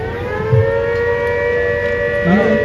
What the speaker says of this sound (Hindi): सायरन है जो शाम को निर्धारित समय पर बजेगा, इसको सुनते ही आपको हरकत में आना है।